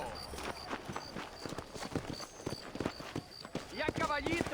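Horse hooves clip-clop at a walking pace in Red Dead Redemption, a steady rhythm of close hoofbeats under ongoing talk, with game music or chatter rising near the end.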